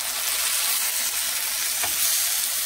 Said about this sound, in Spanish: este chilito y también lo echo en la sartén para que se dore poquito